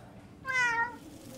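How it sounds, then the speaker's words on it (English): A kitty gives a single clear, close meow lasting about half a second, rising then falling, over a low background hum. "I saved this kitty for you."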